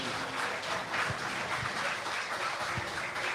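Audience applause at a Busboys and Poets book presentation, a steady wash of many hands clapping at moderate distance, sustained evenly throughout without voices.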